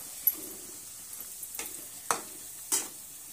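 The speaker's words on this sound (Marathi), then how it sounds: "आपल्याला रवा व्यवस्थित असा छान भाजून घ्यायचा आहे" Semolina roasting in a pan over medium flame while being stirred, a faint dry sizzle broken by several sharp spatula scrapes spaced out over a few seconds, close and quiet.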